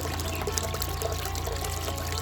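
Water runs steadily through a sluice bucket packed with gold-bearing gravel, giving a constant close pouring rush with a low hum underneath and no voices.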